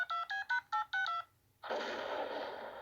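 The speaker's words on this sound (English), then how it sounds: "I'm gonna call Mahmood right now on this cell phone he gave me." Six quick touch-tone beeps sound as a cell phone number is dialed in a Family Guy scene, followed by a short pause and then a steady hiss of static.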